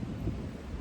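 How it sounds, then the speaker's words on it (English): Low, steady thunder rumble during a gathering tropical storm in a garden, a continuous deep roll with no talking over it. "you can hear the thunder in the background."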